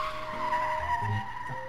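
A car in a video game brakes hard and skids, tires squealing in a short sustained screech over a low engine rumble.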